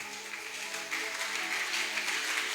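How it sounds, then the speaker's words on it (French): Church congregation applauding, a steady wash of clapping hands that builds slightly partway through and continues evenly, with sustained tones in the background. "Ça c'est vrai, ces acclamations, il les mérite."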